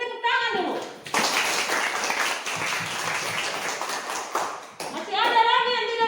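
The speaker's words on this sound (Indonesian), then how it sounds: "Kita berikan tepuk tangan dulu." Audience clapping in a classroom during a teacher-training group presentation, a burst of applause of about four seconds that rises sharply between spoken lines and stops abruptly as a voice resumes.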